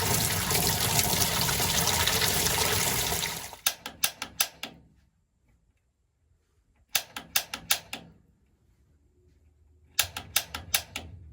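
Water rushes loudly into a 50-gallon water heater tank during a new installation, a steady dense hiss lasting a few seconds before cutting off, followed by separate bursts of rapid, sharp clicking with quiet gaps between them.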